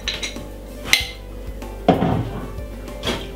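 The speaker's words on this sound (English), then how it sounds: "Just put a little bit of oil in your frying pan," Metal cookware clanks while oil goes into a frying pan for Jamaican fried chicken gravy: a few close knocks and clinks of pan and utensil, with quiet kitchen background and no talking.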